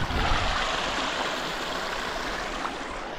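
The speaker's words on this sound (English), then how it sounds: "What a beautiful creek. I love this creek. Flows all year round, always crystal clear." Clear spring-fed creek in Arnhem Land flowing all year, a steady broadband rush and babble of water, close and continuous with no voices.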